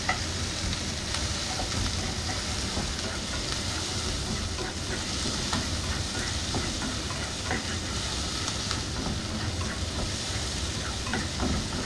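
Tomatoes and other vegetables fry in a pan while being stirred, a steady close sizzle with scraping and clatter running throughout, no talking.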